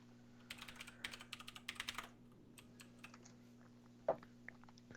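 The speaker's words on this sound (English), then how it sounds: "I could hear that microphone, keyboard typing loud and clear" A computer keyboard clatters in a quick burst of close key clicks, then goes quiet except for a single sharper tap, all over a steady low hum.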